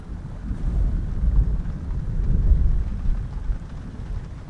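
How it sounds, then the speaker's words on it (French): Rain beginning to fall, a dense low rumble and wash of water with gusty swells, like a storm building outdoors, steady and fairly loud with no voices. "la pluie se met à tomber"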